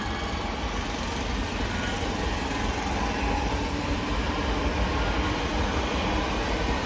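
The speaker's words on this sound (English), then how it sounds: "There goes a 323 service going, 323 West Midlands Railway service is going to Lichfield Trent Valley from Bromsgrove." West Midlands Railway class 323 electric train passing through Longbridge station, a loud, continuous rumble and rush close by that holds steady for several seconds without a break.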